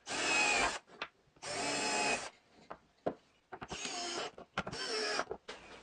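A drill bores pilot holes into plywood in four long bursts of steady whine, each lasting under a second or so, separated by short pauses with small clicks and handling knocks in between.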